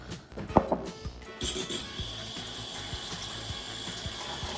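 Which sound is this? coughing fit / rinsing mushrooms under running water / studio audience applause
rinsing mushrooms under running water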